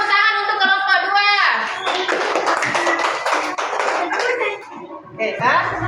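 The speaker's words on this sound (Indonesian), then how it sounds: "tepuk tangan untuk kelompok 2." Classroom of schoolchildren clapping for a group's project work, a dense burst of hand claps with young voices talking and laughing over it, opening and closing with an adult speaking.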